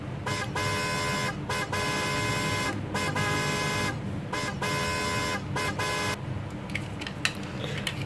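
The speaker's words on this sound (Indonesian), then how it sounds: "Kita dengarkan suara klaksonnya guys." A small toy car horn on a diecast Peugeot 206 CC model honks in repeated short beeps with brief gaps, bright and close, playing a simple tune over steady background noise.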